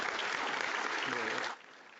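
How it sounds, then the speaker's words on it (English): Audience applause at a Pro Football Hall of Fame speaking event, a steady dense burst of clapping at moderate distance that stops abruptly after about a second and a half, leaving quiet room tone. "Let's give them a round of applause too"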